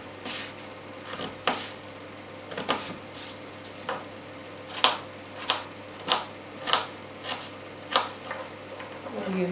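Potato, swede and onion are chopped into small cubes on a board, a steady series of sharp knife taps at a brisk, fairly even rhythm, close and clear against a quiet kitchen background.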